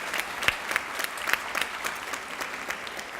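A school audience at a high school academic achievers ceremony applauds a group of sophomore students, a light, somewhat distant clatter of scattered hands with a few sharp nearby claps standing out.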